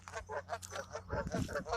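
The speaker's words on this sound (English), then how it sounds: "the geese doing their thing, puffing up, probably telling me off" Several geese at a canal honk close by in a quick series of harsh, nasal calls, some overlapping, with a low rumble underneath.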